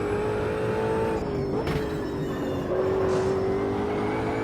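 An Ultima GTR race car in Automobilista 2 at Brands Hatch, its engine droning loudly and steadily with a rising pitch in third gear and one brief shift blip, heard from inside.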